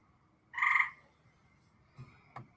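A single frog croak rings out clearly, short and tonal, followed by a couple of faint clicks against a quiet background with no voices.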